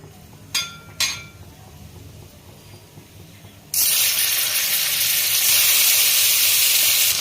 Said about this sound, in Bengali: মাছটা একটু ভেজে নিচ্ছি